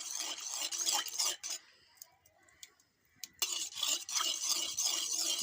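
Date palm jaggery being stirred into boiled milk off the heat, a close bright swishing and clinking of a spoon against the pot that pauses briefly midway before resuming, with no voices.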